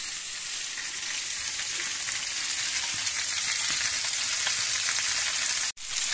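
Steady, continuous sizzling of moray eel frying in hot oil in a pan, close and fairly loud, with a brief dip near the end.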